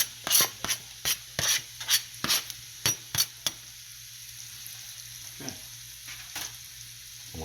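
Peppers and onions cook on a barbecue grill as a string of sharp metallic scrapes and clinks sounds from a utensil working them, over a low sizzle that continues once the scraping thins out.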